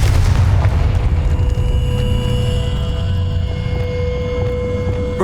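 A loud, booming spell explosion in the video game Hogwarts Legacy, a heavy low rumble that hits at once and slowly fades away with a ringing tail, no voices.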